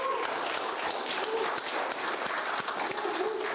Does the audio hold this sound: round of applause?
yes